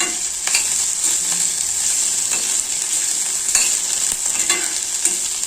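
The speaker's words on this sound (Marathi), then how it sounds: "बघा छान अशी भेंडी शिजत" Okra (bhendi) cooking in a pan for bhendi bhaji, a loud, close, continuous frying sizzle with occasional stirring scrapes and clicks, no voices.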